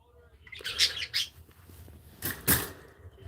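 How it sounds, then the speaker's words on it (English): Two birds give bright, sharp chirps in short bursts: a pair of calls early on, a pause, then a louder pair, against a quiet background. "would you two birds be quiet?"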